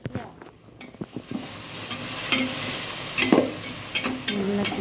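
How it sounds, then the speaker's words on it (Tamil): Biryani masala being stirred into a pan of soya-chunk biryani, with a spoon scraping and clinking against the pan in repeated strokes over a steady background hiss. "பிரியாணி மசாலா ஆட் பண்ணி நல்லா கிளறுங்க."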